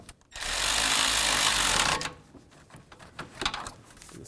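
A power tool drives a bolt during installation of a radiator cooling fan on a 2013-17 Nissan Sentra, a close, loud two-second whir that stops abruptly and leaves quiet handling noises.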